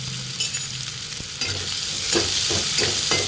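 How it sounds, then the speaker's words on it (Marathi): Chopped onions frying with salt, cumin and ajwain on a tava pan, a steady close sizzle with a few scraping stirs toward the end. "आता कापलेले कांदे टाकून घेऊया कांदे लाल होण्यासाठी आणि शिजण्यासाठी मीठ टाकलं आपण"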